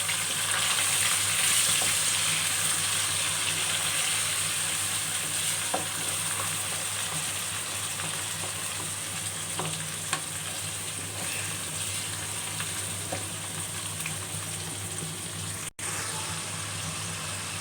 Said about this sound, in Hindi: अब मैं इसमें लहसुन और हरी मिर्चें ऐड कर देती हूँ